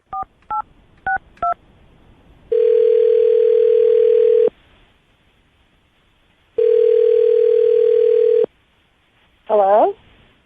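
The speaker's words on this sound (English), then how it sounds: "I'm going to dial her phone number right now, get her on the phone" A phone number being dialed on a radio call-in: four quick keypad tones, then two long steady ringback tones with a pause between them, and a brief warbling tone at the end.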